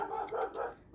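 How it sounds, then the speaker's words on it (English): A small dog barks in short, close yips and woofs over roughly a second, the bursts running together with no talking. "Sorry, that's my dog. Everything she hears, she barks."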